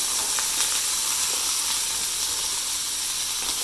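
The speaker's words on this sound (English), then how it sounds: "add them and saute them until they are well mixed with the spices" Cauliflower florets sautéing with spices in a pan for cauliflower makhani masala, a continuous loud steamy hiss and sizzle with faint stirring ticks, close and unbroken, no voices.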